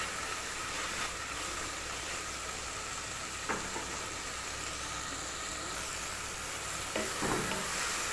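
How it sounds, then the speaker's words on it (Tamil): Tomatoes sauté in a pan for arisi paruppu sadham, giving a soft, steady sizzle with occasional stirring scrapes, quiet and continuous, with no talking. "தக்காளியும் 1-2 நிமிஷம் வதங்கினா போதும்."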